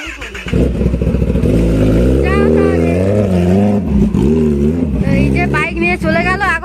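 A motorbike engine revs loudly and steadily as a young woman sets off on a ride through a village, with the pitch rising and falling through several surges while voices talk over it.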